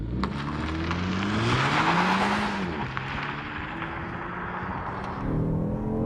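A 2025 Kia K4 GT Line turbo accelerates hard from a standstill with the e-brake on, its engine note rising loudly and steadily through the revs for several seconds, close and continuous with no talk.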